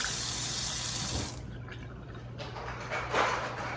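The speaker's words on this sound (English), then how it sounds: "Just doing the dishes." A kitchen tap runs while dishes are washed, a steady rushing stream at first that cuts off partway, leaving softer splashing and dripping close by.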